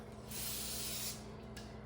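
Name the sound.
cooking spray sprayed onto a pan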